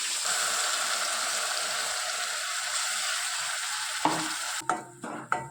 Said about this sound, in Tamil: இப்போ அரைச்சி வச்ச மசாலாவை அதோடு சேர்த்துடலாம்